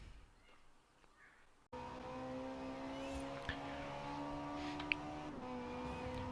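Ferrari 458 engine in a racing video game, a steady sustained drone with strong harmonic layers starting abruptly after a quiet opening, holding constant on the track with a couple of brief sharp clicks.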